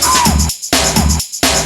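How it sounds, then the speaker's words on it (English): Looped drum break sample for a UK garage beat, a short punchy pattern repeating about three times with abrupt gaps between, crisp hits and bright cymbal wash, loud and alone. "original drum break sounds like this"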